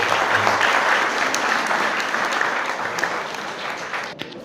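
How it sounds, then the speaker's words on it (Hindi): Audience applause rises for a guest being welcomed onto the stage at a foundation event, a full, sustained clapping that gradually thins and softens toward the end. "तालियां बजती रहनी चाहिए।"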